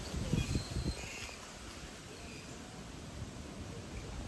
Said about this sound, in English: Man, this bird has been chilling there for the past month.